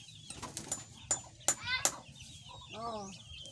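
Chickens clucking and squawking near a homemade coop for chicks, several short bursts of calls at close range, with a rural outdoor background.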